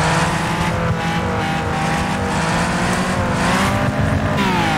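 A Nissan GTR-like race car engine in a video game drones loudly and continuously, its pitch shifting with gear changes and revs, with no talk over it.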